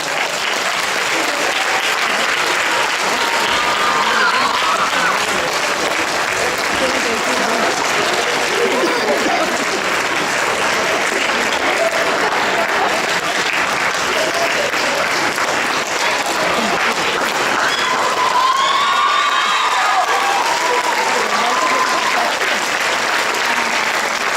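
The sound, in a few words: audience applause and cheering at awards ceremony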